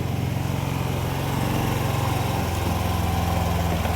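A Yamaha Nmax 155 V2 scooter engine idling abnormally high, a steady, loud, buzzing drone held close throughout with no change in pitch.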